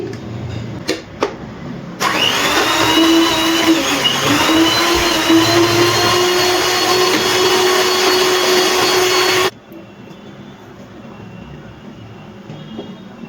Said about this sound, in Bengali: এবারে সব কিছু আবার একটু মিশিয়ে নিচ্ছি।